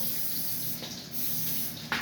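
Cooking oil sprays briefly onto chicken Kiev in a hot pan, a short close hiss standing out near the end over a soft, steady sizzle.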